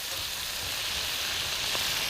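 Cabbage fries in a pan over medium heat while being stirred, a steady close sizzle that holds evenly throughout with no talking.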